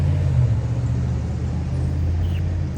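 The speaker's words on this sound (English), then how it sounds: "There's noisy cars. I took you on a busy road, huh?" Cars pass steadily on a busy road, a continuous low rumble of engines and tyres with no break, moderately loud and close, alone without talk.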